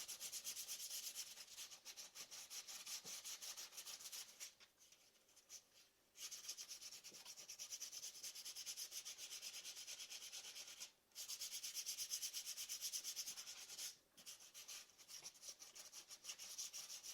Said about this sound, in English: just to sit here and just sand on it.